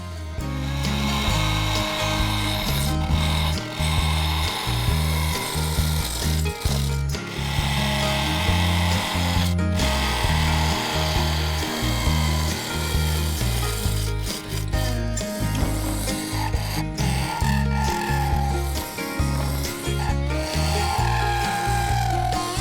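A wooden honey pot lid spinning on a lathe as a tool shapes its domed top and thins the edge, producing a loud, steady rasping scrape over the motor's hum, with short pauses between cuts.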